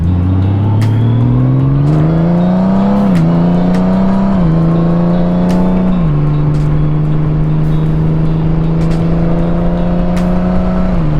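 A car in sport mode accelerates hard from inside the cabin, its engine climbing in pitch through several gear shifts, a loud steady drone with brief dips at each change.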